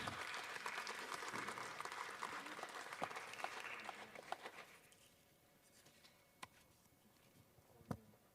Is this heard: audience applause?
yes